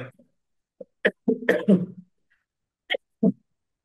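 A woman coughs several times in short separate bursts close to the microphone, with a rough throaty cluster in the middle and quiet gaps between.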